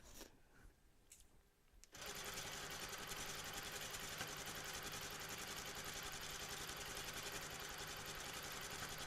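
A sewing machine free-motion quilting fabric runs at a steady, loud, continuous stitching hum, starting up after about two seconds of quieter handling.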